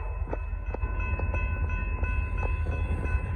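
Norfolk Southern freight train P42 rolling southbound at night, a steady loud low rumble with evenly spaced clicks of wheels over rail joints, close by and alone with no talk.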